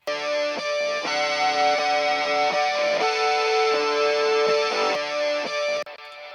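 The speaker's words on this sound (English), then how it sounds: "Beautiful kind of shoegazy distortion thing going on." Shoegaze electric guitar in an indie emo track, drenched in thick, sustained distortion with chorus-like shimmer, strummed chords ringing in a loud continuous wash with a sharp cut near the end.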